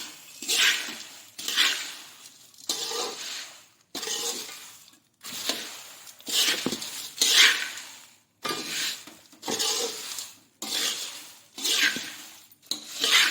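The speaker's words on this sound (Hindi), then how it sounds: "इस तरह से मिलाते हुए हम सारी चीज़ों को मिक्स कर लिए" A spoon works snack ingredients around a pan in repeated rhythmic sweeps, each one a bright, rattling scrape, with brief pauses between them.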